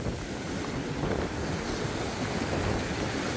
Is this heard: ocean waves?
yes